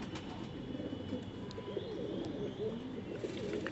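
A fancy pigeon kept at home coos in soft, low, repeated murmurs that carry steadily through the whole stretch, close by, with faint chirps and light background noise and no one speaking.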